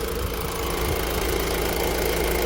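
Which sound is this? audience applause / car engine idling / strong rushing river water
car engine idling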